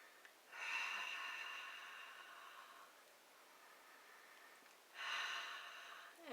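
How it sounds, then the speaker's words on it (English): A mother in labor sits and breathes in deeply a few times, two long, close, airy inhalations separated by a quiet pause, soft and unaccompanied by talk. "You'll have a mother kind of sit and then deeply breathe in a few times."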